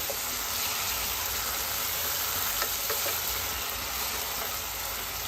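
Mutton keema balls and bones being stirred in a sizzling pan, a steady close frying hiss with faint scraping of the spoon, continuous and even throughout, no talking.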